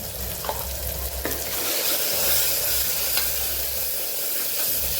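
Spices and tomato sautéing in a pan, a steady sizzle and frying hiss with occasional spoon stirs, close and continuous with no talking.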